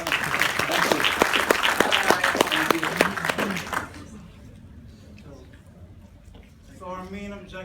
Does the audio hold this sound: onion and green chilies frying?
no